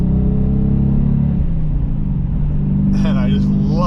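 A 2019 Dodge Challenger R/T with a six-speed Tremec manual drives along with a steady, loud engine rumble that drops in pitch partway through, as if between gears, while someone talks over it near the end.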